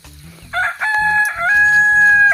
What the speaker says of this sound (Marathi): या आहेत आमच्या कोंबड्या.